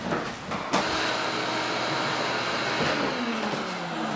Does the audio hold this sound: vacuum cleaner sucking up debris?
yes